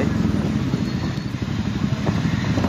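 A motorcycle engine rumbles steadily close by, a low throbbing idle with slight clattering.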